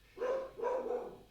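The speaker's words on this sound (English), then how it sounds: "sorry about the barking" A dog barks twice in quick succession, faint and somewhat distant, behind an indoor conversation.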